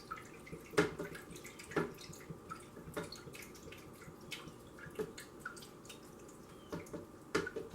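Coconut water drips from a shaken coconut, scattered soft drops falling at irregular intervals, about a dozen over several seconds, with a faint constant hum underneath.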